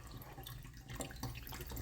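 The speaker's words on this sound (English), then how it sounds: "The water is pouring out the top" Water pouring out the top of a water filter being primed, a faint trickling and splashing with small irregular drips, close by and quiet, no talking.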